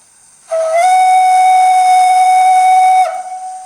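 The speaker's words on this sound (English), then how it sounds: "That's the whistle." A model steam locomotive's sound-unit whistle, from an Ivatt Class 2 model, blows steady and shrill for about two and a half seconds, loud and close, with a breathy hiss underneath, then cuts off.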